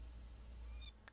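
A short, faint cat meow from the Minecraft video game rises quickly and is gone in about a second, with a soft click right after.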